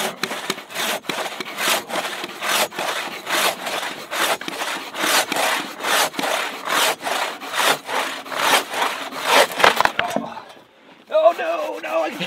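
Japanese and Western hand saws cutting through wood in a timed race, with steady rapid rasping strokes for about ten seconds, then a brief pause and a few faint scrapes.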